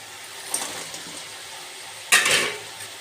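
Water and fried chicken pieces tipped into a pan of onions with garlic paste, salt and sugar for boneless chilli chicken, giving two short splashing sizzles, the second louder and longer, close by.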